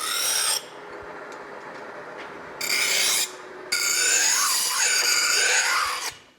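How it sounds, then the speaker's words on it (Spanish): A hand file rasps back and forth over the burr on a forged shepherd's knife blade made from an old scythe, in three loud bursts of strokes separated by brief pauses. "como de la tajadera al cortar en el yunque ha quedado rebaba, hay que pulirla un poco"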